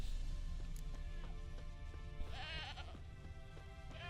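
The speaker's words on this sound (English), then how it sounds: "Here's the goat." A tethered goat bleating in The Witcher 3, with a few wavering bleats over a humming game ambience and faint background music tones.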